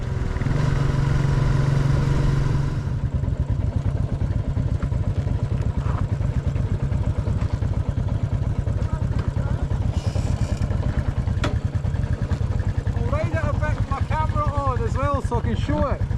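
A Royal Enfield Bullet 500 motorcycle engine running on the road, a steady low thumping drone heard from the rider's position, loud at first then settling under wind noise, with brief chirping sounds near the end.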